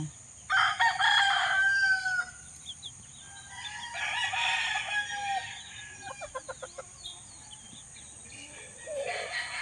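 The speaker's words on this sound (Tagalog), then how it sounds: "nag-aalaga din ako ng ibang lahi manok" Chickens cluck and call up close, with a rooster's crow and a quick run of sharp clucks amid the flock's chatter.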